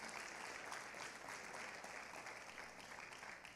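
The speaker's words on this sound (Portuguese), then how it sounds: "Uma salva de palmas aí para a galera da adoração." A church congregation applauds the worship team, a dense, steady roar of many hands clapping that fills the room evenly from start to finish with no break.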